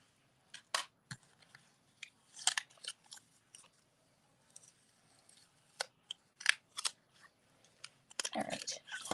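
Scissors snip paper in short, quiet bursts of crisp cuts, scattered irregularly at close range with pauses between, ending in a denser flurry of cutting during paper crafting.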